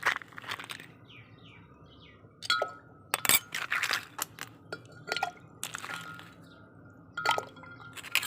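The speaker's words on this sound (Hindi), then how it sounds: "अब इसमें हम बर्फ़ डालेंगे।" Ice cubes dropped into a jug of homemade black drink made with kahwa and lemon, several separate clinks and rattles of ice against glass in short bursts, close and fairly quiet.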